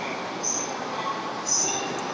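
Train noise at a JR station platform in Japan, a steady broadband rumble with two brief high squeals near the start and end, heard alone without talk.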